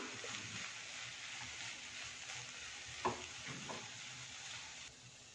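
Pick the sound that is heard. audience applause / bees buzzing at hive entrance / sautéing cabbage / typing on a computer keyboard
sautéing cabbage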